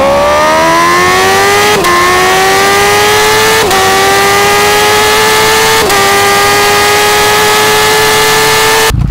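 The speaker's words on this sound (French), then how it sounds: "je vais vous mettre celui de la H2, on va faire un petit launch control" A Yamaha MT-09 fitted with a Kawasaki H2 exhaust sound runs a launch control, the engine revving hard and loud, its pitch climbing steadily with three brief dips, close and without speech.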